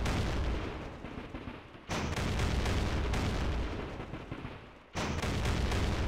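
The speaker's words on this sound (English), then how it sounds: "Let's take this flak gun and see if we can shoot his leader here." A 37 mm flak gun firing in the war game Campaign Series Rising Sun: two heavy, booming shots about three seconds apart, each followed by a long rumbling decay.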